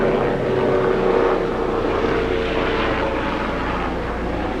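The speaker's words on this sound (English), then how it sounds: "Helicopters going over my house." Helicopter passing over a house on a cool foggy morning, a steady droning engine and rotor rumble that holds loud and even throughout, with no talking.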